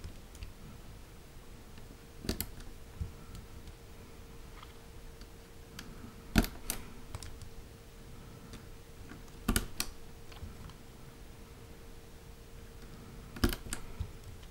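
Lubed KBDFans T1 mechanical keyboard switches tested by typing, giving sparse, crisp clacks and a few double clicks at irregular intervals over a low steady hum, with no voices.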